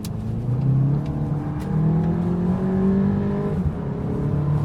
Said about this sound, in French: vous avez une sonorité à l'échappement qui est quand même prononcée et accentuée également par les haut-parleurs